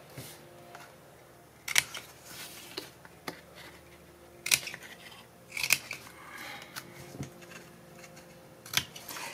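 Scissors cut paper along pencil lines for a baby scrapbook album: sharp, close snips come singly and in pairs at irregular gaps over quiet room tone.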